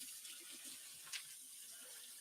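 A kitchen faucet runs steadily while raw shrimp are rinsed, a soft, even hiss of flowing water with one brief splash partway through and no talking.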